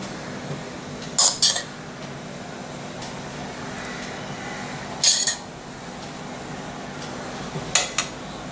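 A knife spreads a cooked spinach and corn filling across bread slices, making three brief clinking scrapes against a plate over quiet background noise, while someone talks.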